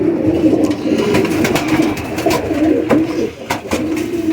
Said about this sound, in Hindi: ये कबूतर है, ये भी नर है